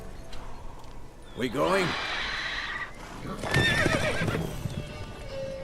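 Roach, a horse in The Witcher 3 game, whinnies loudly twice with clopping hooves between, heard close under a voice speaking briefly.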